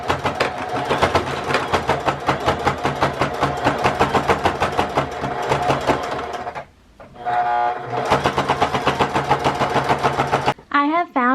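A sewing machine stitches fabric for a bowl cozy, a steady rapid close-up chatter of the needle that runs continuously, breaks briefly for a short whirring adjustment, resumes, then stops.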